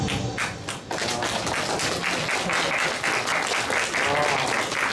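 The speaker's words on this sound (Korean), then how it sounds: "짧은 영상을 보시고도 뜨거운 박수 감사합니다" Loud, sustained applause from a forum audience at a 2023 self-reliance forum for people with developmental disabilities, dense clapping filling the hall steadily without pause.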